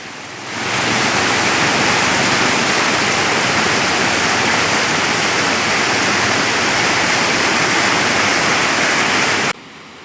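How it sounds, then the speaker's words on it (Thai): Swift water pours over an overflow weir at full release in Surin, Thailand, a loud, steady broadband roar that fills the scene from start to end, dropping off abruptly just before the close. "กระแสน้ำไหลเชี่ยวแบบนี้อันตรายมากนะครับ"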